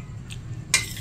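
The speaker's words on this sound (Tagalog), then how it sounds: "Kaya sinasando ko na yung ating niluto na ulam and gulay." Cooked viand and vegetables are dished up at home for dinner, with a couple of soft dish and cutlery clinks and a sharper clatter near the end over a quiet room.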